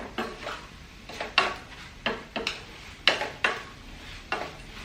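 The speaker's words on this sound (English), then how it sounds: "So after adding the bamboo shoot, we will fry like 2 to 3 minutes." Dry bamboo shoot frying in a pan while being stirred, with a soft sizzle underneath and a regular series of scraping, clattering spoon strokes against the pan, close and fairly quiet.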